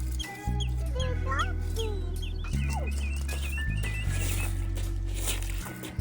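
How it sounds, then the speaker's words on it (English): Chickens clucking on a farm, repeated short clucks and chirpy calls from several birds close by, over a steady low background hum, with no voices. "Is that little bird talking to you, Elias?"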